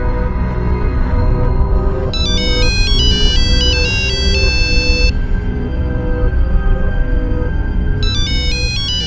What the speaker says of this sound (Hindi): फोन तो अंदर बज रहा